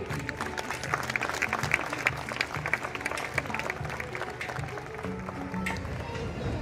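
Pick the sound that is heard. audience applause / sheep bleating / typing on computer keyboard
audience applause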